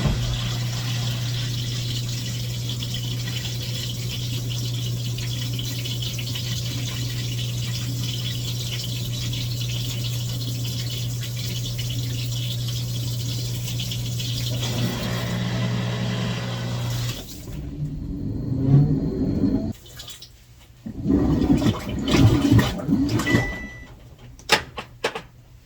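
A washing machine fills with water before agitating on a hot, extra-heavy soil cycle, a steady low hum and rushing flow running evenly for about fifteen seconds, then giving way to irregular sloshing and clunks.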